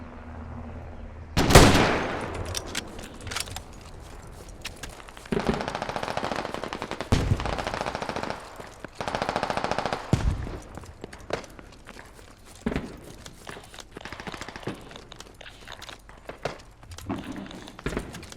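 Gunfire in a squad-based shooter video game, a sharp loud shot followed by several separated bursts of rapid fire over roughly eighteen seconds, with footsteps and movement noise between them and no talk.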